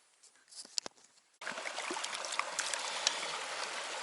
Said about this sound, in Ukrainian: Де ще можна так мити стаканчики, і кружки